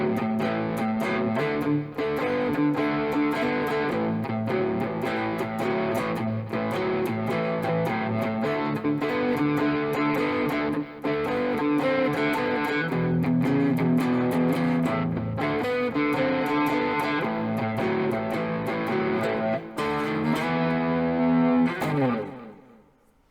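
A Tease Guitars SBH-E electric guitar on its neck pickup plays a continuous riff through gain and effects, chords and notes ringing densely for over twenty seconds before cutting off abruptly.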